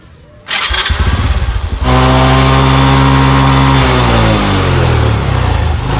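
A motorcycle engine, run as a test after the chain is lubricated, catches after a short starting sputter and then roars loud and close in a steady, rough idle with slight revving.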